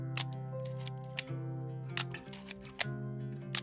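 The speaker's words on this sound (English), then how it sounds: "It just has more of a shutter sound than the M6 does." Mechanical shutter clicks from a cheap Leica film camera, several sharp, close clicks at irregular intervals over a steady tonal background hum, with no talking.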